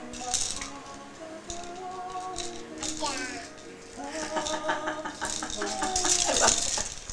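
Keys jingle and clink in bursts, light metallic rattles that come and go amid ongoing conversation and background chatter in a home.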